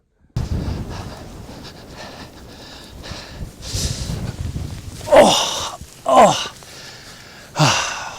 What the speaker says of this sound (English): Very, very windy day today.